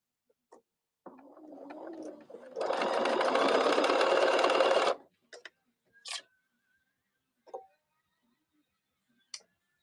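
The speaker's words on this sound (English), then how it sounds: "I am almost done with this top stitching though." A sewing machine top stitches a scrap-fabric pin cushion, running in a short buzzing burst of a couple of seconds after a softer start. Scattered clicks and small handling taps follow in near silence.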